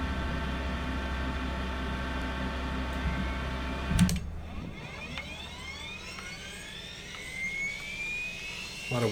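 Engine number one of a Sabreliner business jet spooling up in a flight simulator, a steady mechanical drone cut off by a clunk, then a rising whine that climbs in pitch as the turbine spins up, with no voices.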